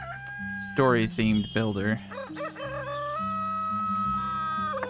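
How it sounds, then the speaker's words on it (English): A rooster crows in the city-building video game Black Forest, two loud close cock-a-doodle-doo calls followed by softer clucking over a steady musical background, with someone speaking briefly. "Oh, that is one annoying rooster."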